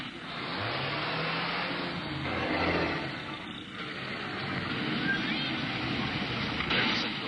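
A truck engine revs hard in a 1940s-style adventure serial scene, a loud mid-pitched roar rising and falling steadily for several seconds with rumbling low tones underneath.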